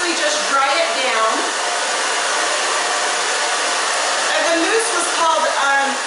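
Hair dryer blowing while drying a short stacked bob styled with mousse, a loud continuous close-up whoosh that shifts slightly in pitch as the airflow moves, with no talking.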